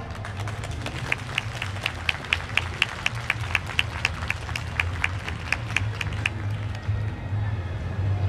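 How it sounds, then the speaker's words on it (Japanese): Outdoor festival crowd clapping to welcome a dance team at the YOSAKOI Soran festival stage, with crisp rhythmic claps repeating steadily over crowd murmur and low rumble before tapering off near the end. "皆さん拍手でお迎えください。"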